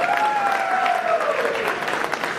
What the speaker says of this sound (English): give her a quick round of applause, please